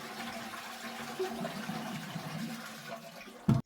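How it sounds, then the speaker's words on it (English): A household toilet flushes to empty the cistern, giving a soft, steady rush of draining water that ends in a sudden louder gurgle. "Then flush the toilet to drain most of the water out of the cistern."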